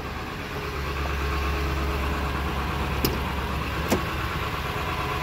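A 7.3 diesel truck set up as an off-road rig idles steadily up close, a low continuous rumble with a couple of brief sharp clicks partway through.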